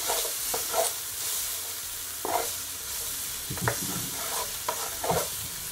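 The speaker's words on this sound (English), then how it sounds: "Give it a stir." A spoon stirs seasoned food in a pot for Jamaican roast fish with callaloo, making a few soft scraping, clattering strokes over a steady background hiss.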